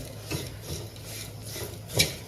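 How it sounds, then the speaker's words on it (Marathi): Soft dry scraping and rustling as curry leaves are dry-roasted and stirred in a pan, a few gentle strokes with a sharper clink near the end, faint and close. "आता दोन मिनिट कढीपत्ता भाजून घेऊया"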